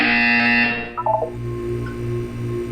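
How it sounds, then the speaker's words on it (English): A game buzzer sounds in the Aperture Science relaxation center of Portal 2: a sustained electronic tone cuts off, then short stepped beeps and a low pulsing hum follow, loud and close with no talking. "You will hear a buzzer."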